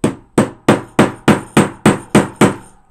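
A chunky little hammer pounds a snap into a placemat tote bag with nine sharp, evenly spaced strikes, each close and loud with a quick ringing decay.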